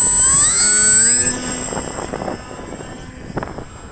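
Electric motor of a Skywalker Falcon RC plane throttles up in a rising whine with climbing tones for about a second, then drops away into quieter outdoor noise with a few faint knocks.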